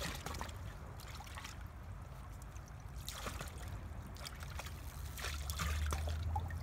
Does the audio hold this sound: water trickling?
yes